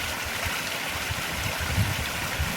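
Water pours steadily over a garden waterfall into a sump, a constant close rushing and splashing wash with a faint low gurgle and no pauses.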